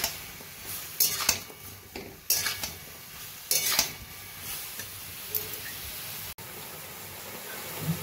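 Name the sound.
tomatoes cooking and being stirred in a pan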